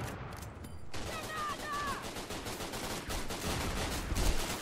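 Rapid bursts of video-game gunfire crackle and pop repeatedly throughout, dense and fairly loud, with a few sharper shots near the end.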